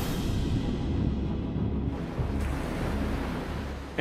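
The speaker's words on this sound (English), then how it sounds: "Caught between the heavy surf and a powerful undertow" Heavy ocean surf in a South Pacific surf zone with a strong undertow, a dense, continuous roar of breaking waves with wind buffeting the microphone, loud and close throughout.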